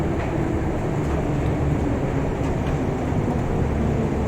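A metro train in Minsk rumbles steadily from inside the carriage, a constant loud low roar with faint rattles throughout and no voices.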